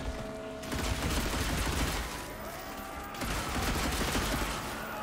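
Loud bursts of rapid gunfire rattle in sustained volleys in the video game Evil West, pausing briefly between bursts, with no speech.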